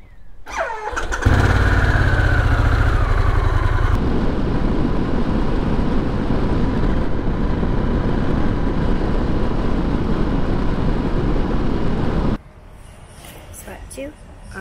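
A 2021 Harley-Davidson Pan America Special 1250 motorcycle starts up and pulls away into a steady, loud engine roar mixed with wind rush while riding, then drops off sharply near the end to quieter rustling.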